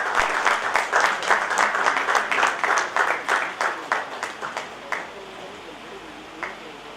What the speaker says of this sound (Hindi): जोरदार थोपड़ी बजा के हाँ सब